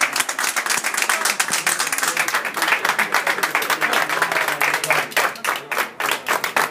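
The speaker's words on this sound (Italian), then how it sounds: "ricordiamo con un applauso." People gathered for a memorial clap together in a loud, close round of applause, with individual hand claps distinct and slightly pulsing throughout.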